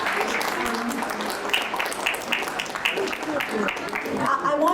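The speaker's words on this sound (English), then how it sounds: "round of applause." An audience at a community food and resource event claps together in a moderate, continuous burst, with a speaking voice audible over the applause throughout.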